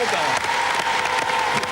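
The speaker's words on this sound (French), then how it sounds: "on va tous les applaudir tout de suite, avec sa troupe, tous les joueurs de Fontenay-le-Comte" French TV studio audience applauds the Fontenay-le-Comte football players: dense, continuous clapping with a voice speaking over it.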